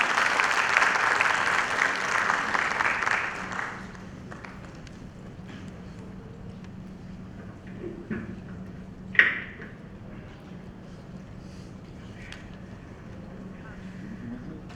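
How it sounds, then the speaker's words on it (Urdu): Applause from a school certificate ceremony audience fills the first few seconds, then fades into a quiet room with faint murmurs and a brief knock. "آپ سب کی زوردار تالیوں کے لیے"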